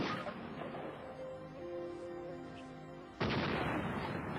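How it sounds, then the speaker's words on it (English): A shotgun bursting apart after being loaded with the wrong Magnum shell: a sustained roaring boom that swells to a louder blast partway through, heavy and near, with no voices. "The gun just exploded. It sounded like a hand grenade went off instead of a shotgun."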